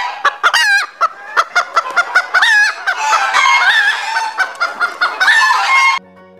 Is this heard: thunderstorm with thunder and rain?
no